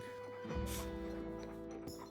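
A puppy dog in the video game Palia gives a soft bark or whimper over steady background game music, brief and fairly faint.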